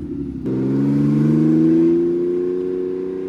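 A 450-horsepower BMW E36 race car engine idles roughly, then revs up into a loud sustained drone that slowly eases off, close by with no talking.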